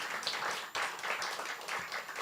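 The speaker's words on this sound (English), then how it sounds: "let's give a round of applause to the team at Beyond Baroque" An audience claps in applause at a poetry book celebration, a moderately faint, steady patter of many hands heard without talk.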